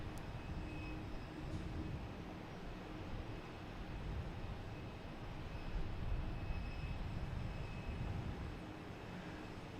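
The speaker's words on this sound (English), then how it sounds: "We have Delta coming in, an E-175." A Delta Embraer E-175 comes in to land at Boston Logan Airport, a steady, broad jet engine roar that swells slightly midway and holds at a distance throughout.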